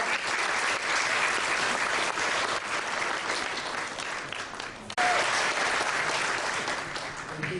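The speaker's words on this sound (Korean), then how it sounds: "박수로 환영해 주시기 바랍니다." Steady applause from an audience at a formal Korean-American community inauguration ceremony, greeting U.S. Congressman Charles Rangel as he comes up to speak; dense, sustained clapping that fills the whole stretch with a brief dip near the end.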